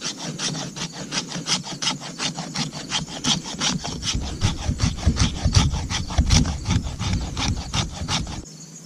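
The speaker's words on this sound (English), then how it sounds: "you want to go get a piece of stick, preferably softwood, and you're going to want to scrape the back of that and make fine shavings" A knife spine scraping a softwood stick into fine shavings for a fire, a rapid regular series of rasping strokes close up, growing slightly heavier toward the end before stopping abruptly.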